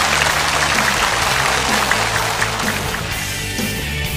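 Studio audience at a Chinese television variety show applauding as the final group of contestants comes on stage, a loud, dense and continuous wash of clapping with music underneath.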